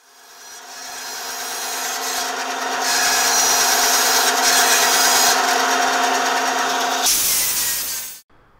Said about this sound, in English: So here I got the flap disc on my grinder, and what I'm doing is just shaping down the handle.